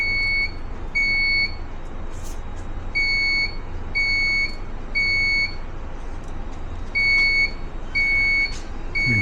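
Building fire alarm sounding during fire alarm training in Troy, repeated shrill electronic beeps in a regular on-off pattern, loud and close, with faint background noise and no voices.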